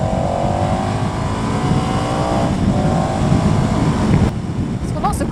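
A 2015 KTM 1190 Adventure V-twin motorcycle rumbles steadily while riding, a dense low engine drone mixed with wind buffeting on the microphone, holding constant for several seconds before a slight drop near the end.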